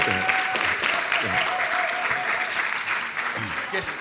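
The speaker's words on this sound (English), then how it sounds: "Let's give Roberto a strong round of applause." An audience claps in sustained applause at a panel discussion on charter schools and the Common Core while a voice talks over it, the clapping steady and fairly loud throughout.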